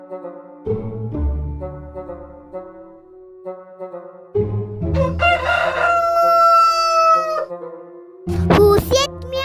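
A voice imitates a rooster's cock-a-doodle-doo crowing during a school stage performance, with several loud, stretched crowing calls rising over harmonic musical backing, the strongest burst near the middle and another at the end.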